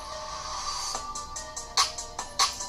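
A T1 phone powering on plays its startup tone, a bright melodic sequence of short chiming notes with a few sharper accented hits, sounding alone and fairly close.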